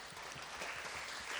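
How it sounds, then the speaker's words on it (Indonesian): Faint, steady applause from a church congregation at a Christmas service, a soft continuous patter of hands that holds at an even low level throughout the brief moment. "Kita beri tepuk tangan dong."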